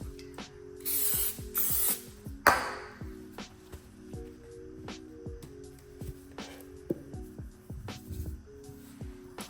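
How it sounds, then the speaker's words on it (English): Cooking oil spray misted onto halved butternut squash: two short hissing bursts near the start, close and fairly quiet, over steady faint mechanical ticking in a home kitchen. "We don't have any liquid oil, so I'm just gonna spray them."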